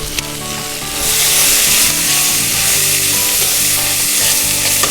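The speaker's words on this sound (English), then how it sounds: "Give that a quick stir." Roughly chopped peppers hit hot oil in a pot and sizzle loudly, a dense hiss that swells after the first second while a spoon scrapes and stirs through them, close and steady.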